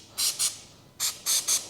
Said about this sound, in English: I'm just going to spray some penetrant onto these exhaust